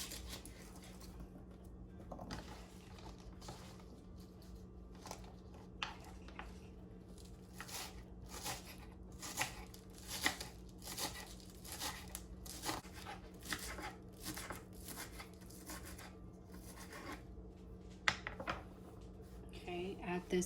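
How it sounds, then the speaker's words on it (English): Green onions being chopped on a board, a steady series of short crisp knife taps running throughout at close range over a low steady kitchen hum. "we are going to cut up some green onions"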